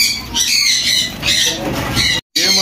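Silver Java sparrow breeder pairs at a Sunday bird market in Bahawalpur give bright, repeated chirping and squawking calls, fairly loud and continuous, with a brief drop to silence near the end.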